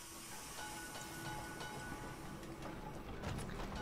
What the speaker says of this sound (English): I'm about to get hit by a tram!